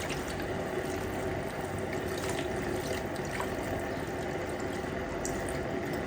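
Clean water pours into a cooking pot holding fish being prepared, a steady continuous splashing rush that stays loud and even throughout with no voices.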